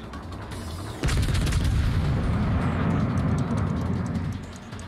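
Heavy naval guns of the IJN battlecruiser Yoshino boom in a video game, one loud blast about a second in followed by a long rumbling roar that slowly fades.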